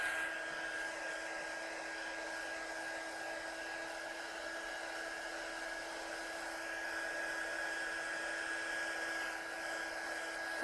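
A heat gun blows steadily on a stamped handmade card, a continuous airy whir with a faint high whine, constant and moderately close for the whole stretch.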